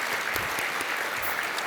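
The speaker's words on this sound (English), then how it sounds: "please let's give them a round of applause" Dense, steady clapping fills a large event hall at a business awards gathering, a crowd applauding without pause.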